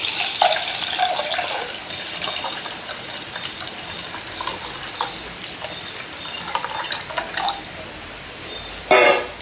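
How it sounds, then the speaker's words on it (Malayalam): Rice starch water drained from cooked rice is poured into a pan, a close, splashing trickle in uneven bursts that fades and returns, ending with a brief louder gush. "ചോറ് ഉണ്ടാക്കിയിട്ട് വാർത്തിട്ടുള്ള കഞ്ഞിവെള്ളം നമ്മൾ ഇതിലേക്ക് ഒഴിക്കും"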